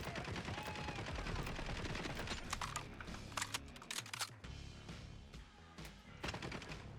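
Gunfire in the video game Borderlands 4 crackles in rapid bursts and single sharp shots, loud and close, with brief gaps between volleys and no talking.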